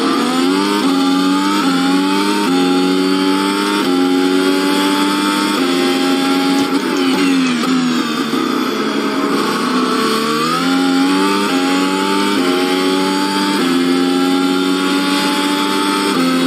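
A Mercedes W13 Formula One car in a racing video game, its engine screaming continuously and loudly with repeated rising pitch sweeps through gear changes and a dip as it slows for a corner, no voices.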